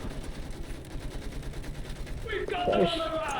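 Machine gun fire crackles in the World War 1 shooter Battlefield 1, a faint, fast rattling burst that swells near the end over a low rumbling game soundscape.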